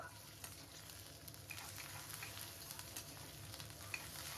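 Green chillies and curry leaves frying in a pan with bitter gourd, a steady low sizzle and crackle with a few faint pops, heard alone without talk.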